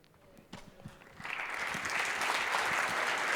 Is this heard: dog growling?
no